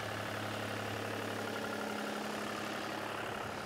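Water bowser truck's engine idling steadily on a greyhound racing track, a constant low mechanical drone with no voices, moderately quiet and continuous throughout.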